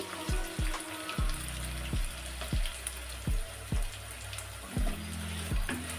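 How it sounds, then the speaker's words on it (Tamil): Small whole onions and garlic sautéing in sesame oil for a traditional vatthal kulambu, a steady close sizzle broken by a series of low, regular thumps from stirring or the pan shifting on the stove. "நல்லா சின்ன வெங்காயமும் பூண்டும் நல்லா வதங்கி வரணும்."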